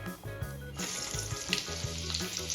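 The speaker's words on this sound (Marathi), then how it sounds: "त्याच तेलामध्ये आपल्याला कांदा पण फ्राय करून घ्यायचा आहे" Chopped onion frying in oil that was used earlier to fry chicken kofta, a steady broadband sizzle that swells louder partway through, close up, with a low hum underneath and no voices.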